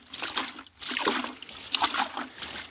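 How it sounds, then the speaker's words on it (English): Water sprinkled by hand over a cabbage seedling nursery bed outdoors, a close, continuous splashing and pattering spray in uneven surges with no talk. "So I am just sprinkling some water"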